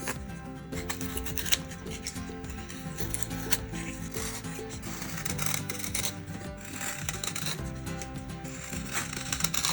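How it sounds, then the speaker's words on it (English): Hand carving and rounding off a wooden largemouth bass swimbait lure, with steady scraping and rubbing strokes of a blade on wood running continuously at close range. "Next, I'll begin drawing on the guidelines to add a bevel to the bait and begin rounding it off"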